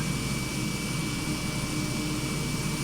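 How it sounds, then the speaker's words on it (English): Steady, droning Kodiak aircraft engine hum in a flight simulator game, constant and fairly loud throughout with no talking. "I love the engine sound on the Kodiak."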